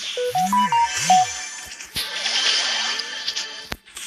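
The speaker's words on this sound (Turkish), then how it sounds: "Benim PUBG'den bildirim geldi." A PUBG game notification on a phone plays a short rising ring of several bright tones, followed by rustling and clicks.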